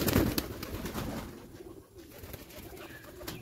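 Pigeons cooing in a bird colony, soft repeated throaty coos from several birds at close to moderate distance, fairly quiet and without talk.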